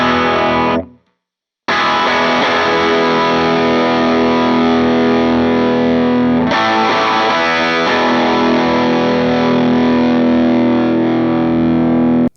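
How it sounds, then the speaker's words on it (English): Clean electric guitar on the bridge pickup, strummed chords ringing steadily at close range, broken by one brief silence early on and a change of chord partway through; no voices. "So this is my clean. I've switched to the bridge pickup."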